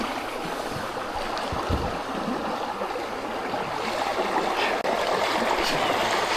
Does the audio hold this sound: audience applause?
no